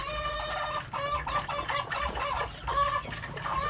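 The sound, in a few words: free-range village chickens clucking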